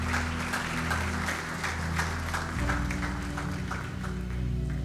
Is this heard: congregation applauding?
yes